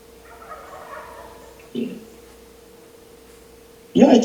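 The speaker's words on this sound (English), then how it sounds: "Oh, he's a turkey out there" A turkey outdoors gobbles once at the very end, a loud burst after a stretch of quiet indoor room tone with faint voices and a brief knock earlier.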